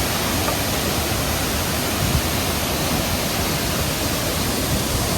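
Small waterfall and cascades on a river in a Chiang Mai rainforest, a dense, loud, unbroken rush of falling water filling the whole scene with no talking.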